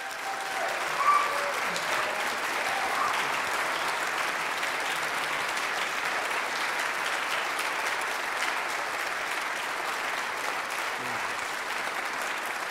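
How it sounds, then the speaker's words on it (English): Sustained applause from a concert audience at a school Christmas concert fills the room at moderate volume and holds evenly for the whole stretch, with no talking over it. "You've been wanting to clap all night, right? All right, let's just say thank you to our musicians."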